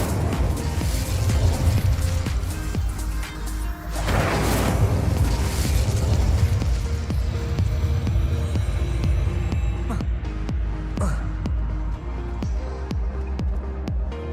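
The Incendio fire spell is cast in the Hogwarts Legacy video game: loud, booming bursts of flame with a throbbing, rumbling roar that swells and fades, backed by continuous game ambience.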